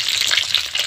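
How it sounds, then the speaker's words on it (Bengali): Green chillies fry in oil left over from frying fish, giving a brief, steady, close-up sizzle with no voices. "মাছ ভাজা তেলের মধ্যে আমি কাঁচা লঙ্কা দিচ্ছি"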